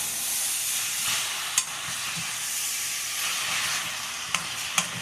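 A hot pan of chicken pad thai steams and sizzles after liquid is added, a soft continuous hiss with a few sharp clicks and taps of utensils, fairly quiet and without talk.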